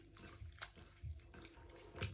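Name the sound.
washing salted snake gourd with water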